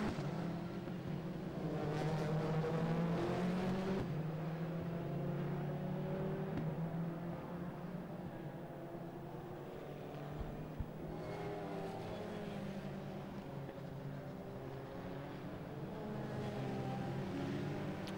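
Endurance race cars lap the Oulton Park circuit, including an Aston and a McLaren, giving a steady distant engine drone that swells and fades slightly as cars pass.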